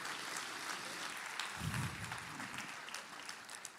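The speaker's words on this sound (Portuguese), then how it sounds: "Agora você pode dar uma salva de palmas" Church congregation applauding during a service, a fairly faint, diffuse patter of many hands clapping steadily, with a brief low rumble partway through.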